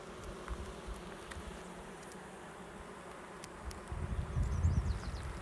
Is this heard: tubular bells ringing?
no